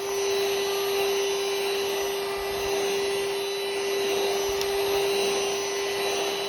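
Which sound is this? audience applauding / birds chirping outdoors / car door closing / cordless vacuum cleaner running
cordless vacuum cleaner running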